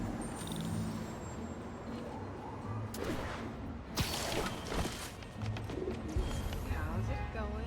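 Pigeons cooing in the Marvel's Spider-Man video game, soft repeated coos over a busy city background with passing traffic and occasional louder bursts.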